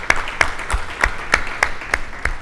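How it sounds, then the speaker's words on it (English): Conference audience at a tech summit giving a round of applause, heard here as a sparse, regular series of individual claps, roughly three per second, moderately loud and fairly close. "So please, a round of applause for them."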